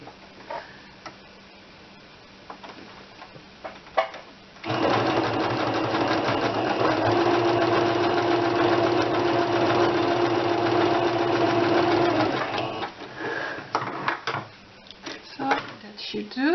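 Sewing machine set to a large stitch running steadily for about eight seconds while stitching a nautical dress for a 9-inch doll, close and loud, with quieter handling clicks before and after.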